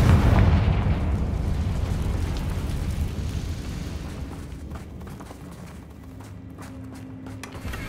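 A Confringo fire spell detonates in Hogwarts Legacy, opening with a loud broadband blast that decays into a long rumbling tail over roughly eight seconds, with faint crackles near the end and no talk.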